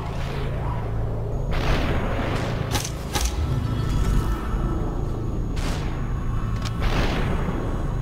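Gunshots and whooshing bullets in the slow-motion shooter SUPERHOT: a few sharp cracks over a dense rumbling ambience, with swelling whoosh-like booms spread across the passage.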